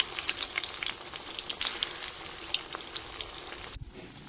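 Chicken pakoras in gram-flour batter frying in hot oil, giving a steady close sizzle with crackling pops and a brief stir or scrape near the end.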